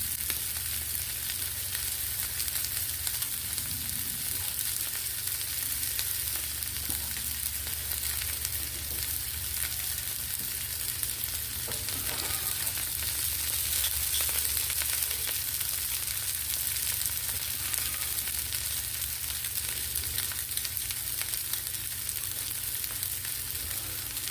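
Chicken drumettes frying on a Blackstone griddle outdoors, a loud, even, continuous sizzle that holds steady for the whole stretch, with faint scraping now and then and no voices.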